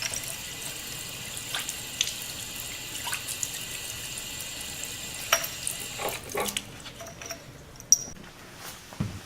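Tap water runs steadily into a sink as lab test tubes and glassware are rinsed, a close hissing splash with small clinks and shifts in the flow near the end.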